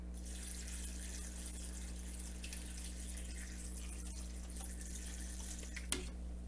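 Water runs from a kitchen tap in a home pantry-cooking setting, a soft steady hiss under a low constant hum, with a small clink near the end.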